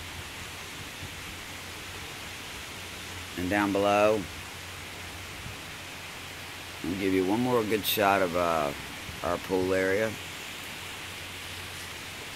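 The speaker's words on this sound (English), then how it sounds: "I'm sure you can hear that rain, and look at it coming off the roof." Heavy, sideways tropical-storm rain in the Caribbean during Tropical Storm Bertha makes a constant, dense hiss that runs throughout, while someone speaks over it in two short stretches.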